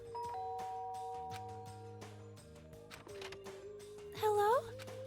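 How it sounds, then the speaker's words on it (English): Doorbell chimes twice in a two-note ding-dong inside the video game Danganronpa: Trigger Happy Havoc, ringing clearly over steady background music near the end. "There's a doorbell next to the door."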